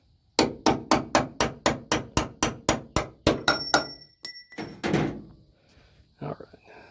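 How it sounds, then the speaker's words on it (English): A hammer taps a stiff door part back out with about a dozen quick, evenly spaced knocks, close and sharp, followed by a few slower, heavier blows. "I might have to use my hammer and tap that back out"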